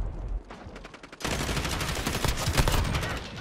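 Rapid automatic fire from the Odin rifle in Call of Duty Modern Warfare, first a short burst, then after a brief pause a long sustained stream of loud, close shots.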